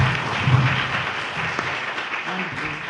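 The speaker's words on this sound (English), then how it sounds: "Let's give a round of applause for" Audience applause at a conference, a soft wash of clapping blended with some low murmuring voices, gradually easing off toward the end.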